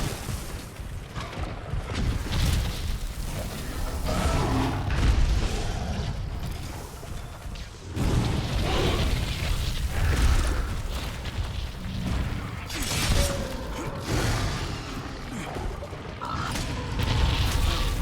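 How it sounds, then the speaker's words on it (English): Brachydios explosions in the Monster Hunter video game, a dense run of loud booming blasts and rumbling impacts that roll on for many seconds with barely a pause, near and heavy. "Did he hurt himself with these explosions?"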